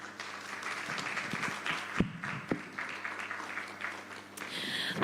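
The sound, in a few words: audience applause at a conference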